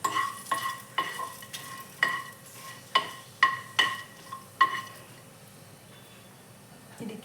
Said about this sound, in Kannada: ಚಕ್ಕೆ, ಏಲಕ್ಕಿ, ಲವಂಗ, ಚಕ್ಕೆ, ಪಲಾವ್ ಎಲೆ ಮತ್ತು ಕಾಳು ಮೆಣಸು ಹಾಕ್ಕೊಂಡು ರೋಸ್ಟ್ ಮಾಡ್ಕೋಬೇಕು.